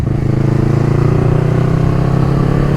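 A motorcycle engine drones steadily while riding, recorded from a helmet-mounted camera, with a low, even, continuous hum and slight pitch drift, close and loud, with no talking.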